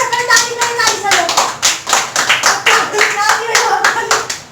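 Group of people at a birthday celebration claps in a quick, steady rhythm, loud and close, while voices sing or call out over the clapping.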